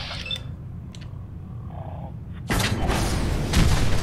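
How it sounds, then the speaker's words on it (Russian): Fat Man nuclear launcher explosion in Fallout 4, arriving as a sudden loud broadband blast midway that swells into a sustained rumbling roar, preceded by quieter game ambience. "Я, конечно, выстрелил совсем не туда, но поражающие силы толстяка сделал свое дело."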